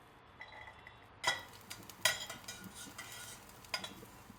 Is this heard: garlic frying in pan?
yes